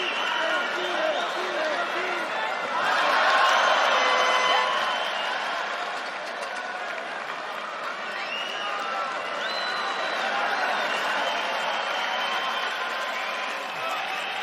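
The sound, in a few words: crowd cheering and clapping during a fight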